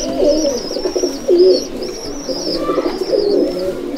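Pigeons cooing in a loft of golden Miyanajiri birds: soft throaty coos rise and fall steadily and close by, with high chirps and twittering from other birds laced above them.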